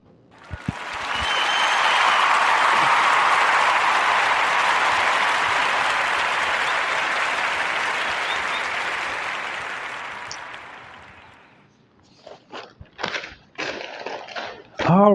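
Sustained applause from a podcast studio audience, swelling quickly and holding for about ten seconds before fading, followed by a brief stretch of talk.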